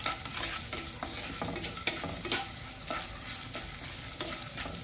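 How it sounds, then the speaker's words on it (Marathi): Edible gum (dink) roasting in almond ghee with steady stirring, a continuous close sizzle and fry with scraping strokes throughout and no voices. "डिक आहे हे चांगला भाजून घ्यायचा बघा."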